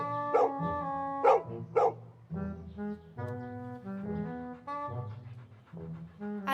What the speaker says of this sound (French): N'aboie pas, n'aboie pas. N'aboie plus.